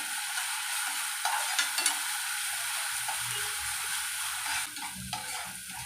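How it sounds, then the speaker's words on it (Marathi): Ginger garlic paste sizzles steadily in a hot pan while a spoon stirs and scrapes through it, with a few sharp clicks of utensil against metal, close up and without any speech. "त्यात आता आपण पुन्हा एक चमचा भरून आलं लसून पेस्ट घालूया आणि ती पण एक मिनिटभर परतून घेऊया"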